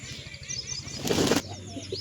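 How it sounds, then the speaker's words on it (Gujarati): Pigeons being released burst into flight with a short, loud flurry of flapping wings close by, framed by faint chirps before and after. "આપણે બધા કબૂતર ઉડાડવાના છે"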